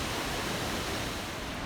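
A waterfall below a climbing trail in the North Carolina mountains sends up a steady, even rush of broadband water noise from a distance, with no voices.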